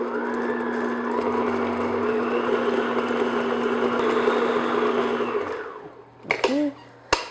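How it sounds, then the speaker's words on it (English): An electric hand mixer beats unsalted butter in a bowl for chocolate cupcake batter, a steady loud motor whir for about five seconds that stops and gives way to a few clinks and scrapes. "So I'm just going to beat this until it's nice and smooth."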